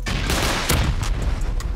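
Rapid automated turret fire in a base-raiding survival game, a dense continuous burst of gunshots with several sharper cracks standing out near the end, loud and close with no talking.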